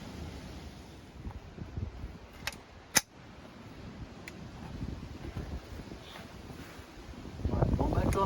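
Gusty wind buffets the microphone at an outdoor shooting range on a very windy day, a low rumbling roar that rises and falls, broken by a few sharp clicks and a loud crack, with a stronger gust building at the end.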